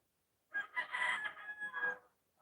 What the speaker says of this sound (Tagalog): Ayan, tumitilaok na hapon.